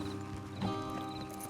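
Horses' hooves in the video game Red Dead Redemption 2, a few muffled clip-clops over a steady game soundscape, moderately close.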